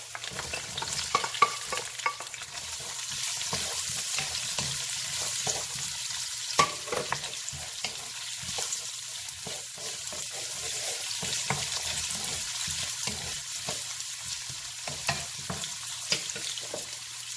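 Garlic, purple onion and celery stir-fried in hot oil for noodles, a steady bright sizzle running throughout with frequent clicks and scrapes of a utensil stirring the pan, close and fairly loud.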